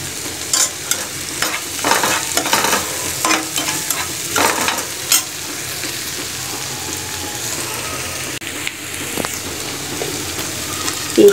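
Onions frying in a pan for a mutton curry, with a continuous crackling sizzle and frequent stirring scrapes in the first half, then a steadier, quieter frying hiss, close by.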